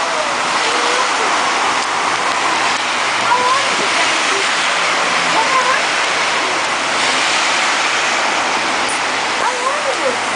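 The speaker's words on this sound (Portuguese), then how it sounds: "primeira chuva de gelo na Inglaterra" A dense, continuous hiss of hail pelting surfaces in England, steady and loud throughout, with faint voices in the background.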